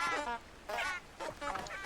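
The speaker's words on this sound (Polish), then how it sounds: "Co to za kurczak?" A chicken in the video game Hogwarts Legacy gives three short, nasal, honking squawks in close succession, fairly loud and close with brief gaps between calls.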